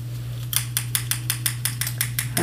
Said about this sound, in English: Clippers in my left.